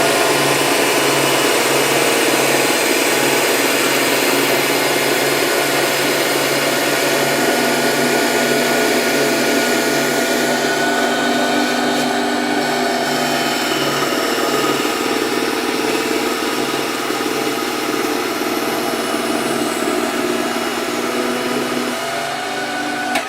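A ring saw grinds through glass, a continuous loud motor whine and buzzing hum that holds steady for over twenty seconds, close up with no talking.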